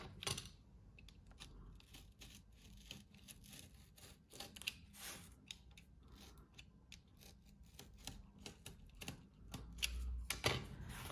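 Scissors snip through paper to cut out an Easter egg decoration, a close, quiet run of crisp rhythmic clips and rustles with short pauses.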